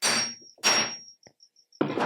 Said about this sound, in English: you just take a hammer